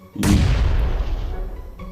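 A bomb in PUBG Mobile detonates as a single heavy, booming blast that hits sharply and rumbles away over a couple of seconds, loud and close with no talk over it.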